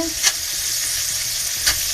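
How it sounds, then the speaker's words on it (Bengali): Steady sizzling and crackling of shrimp frying with garlic in a pan, with two brief louder bursts as food is stirred or tossed. "এই চিংড়ি মাছ দিয়ে আমি ভাজা করে দিলাম"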